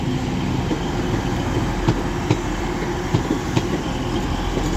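Class 185 train 185135 passing at York station, a steady rumbling roll with a rhythmic series of wheel clicks over rail joints, fairly close and continuous, no talking.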